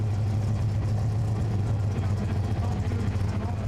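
A tractor pulling machine called Mitas All or Nothing, fitted with a brand new engine, idles with a heavy, low, steady rumble that stays loud and even throughout, with talk over it.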